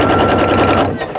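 A sewing machine runs steadily, stitching slowly through thick waxed canvas seams of a tote bag, a close, loud mechanical whir with continuous rhythm, easing off near the end.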